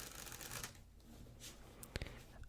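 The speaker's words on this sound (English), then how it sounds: "with this deck, which I'm going to shuffle" A deck of playing cards is riffled and shuffled up close, giving a dense crisp flutter of papery rustling followed by a few sharp taps as the deck is squared, quiet and alone.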